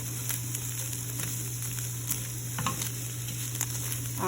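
Eggs cooking in a pan with a steady sizzle and light stirring or scraping taps at irregular intervals, heard close over a constant background hum, no voices.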